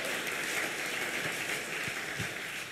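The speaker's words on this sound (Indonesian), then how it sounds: "Beri tepuk tangan yang luar biasa" A congregation applauds during an online Sunday worship service: steady, even clapping from many hands, moderately distant and faint, with a few low thumps beneath it.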